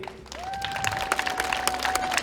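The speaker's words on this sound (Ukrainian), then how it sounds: "Оплески" An audience claps at a Ukrainian spring concert with a vocal ensemble and dance group, a short dense patter of applause with a sustained tone running underneath.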